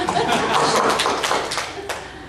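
Church congregation clapping, a short burst of dense handclaps that fades slightly toward the end, with faint chuckles mixed in.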